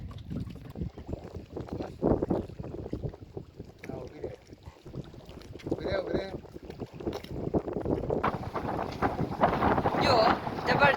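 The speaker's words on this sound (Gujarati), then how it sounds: "જો જબરજસ્ત પવન આવી રહ્યો છે." Strong wind blows over open water during a boat ride, buffeting the microphone in a continuous rushing roar that swells louder toward the end.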